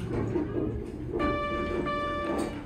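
An R&O Soft Touch hydraulic elevator at an AmericInn hotel sounds a single clear floor-arrival chime, a sustained bright tone that rings out over steady background noise.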